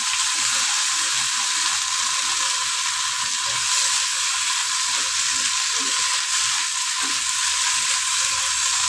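Dried fish sautéing in a hot pan for a rasam alongside herb leaves, a loud continuous close sizzle with scattered crackles and no talking.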